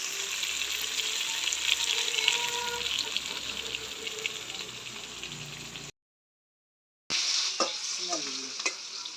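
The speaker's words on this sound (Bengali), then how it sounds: "বন্ধুরা সবজিগুলা ভাজা ভাজা হয়েছে" Potato and eggplant pieces fry and get stirred in a pan, a steady dense sizzle with clattering stirring, broken by a brief silent gap before the sizzling resumes with sharper scraping strokes.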